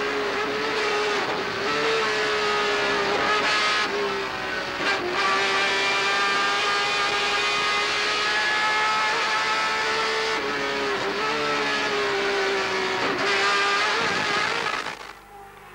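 Chevrolet touring race car at a TC race in Rafaela, heard from onboard: a loud, sustained engine howl with repeated shifts and brief dips under braking, ending with a sudden drop-off, with no talking.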